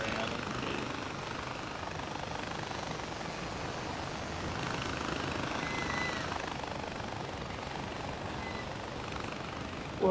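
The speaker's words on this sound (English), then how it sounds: "Alright, I'm in the helicopter right now." Helicopter in a co-op first-person shooter video game, a steady low rotor and engine drone heard from inside the cabin, continuous and even with no talking.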